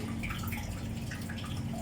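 Seawater leaks slowly into a ship's engine room, giving a steady close trickle with soft dripping and a faint low hum under it, with no talk.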